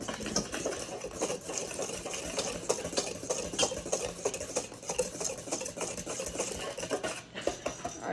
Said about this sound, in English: you're gonna go ahead and whisk together your mixture here